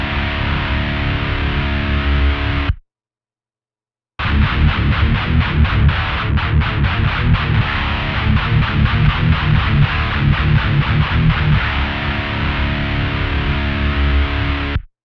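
A heavily distorted electric guitar is boosted by a Tube Screamer-style EQ with low cut, treble lift and extra input gain. It plays loud chugging metal riffs, stops briefly, then resumes with rapid palm-muted rhythmic strikes and sustained chords.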